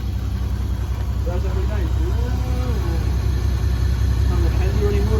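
A Toyota Supra engine idles with a constant low rumble after its timing was fixed, while a voice speaks briefly over it.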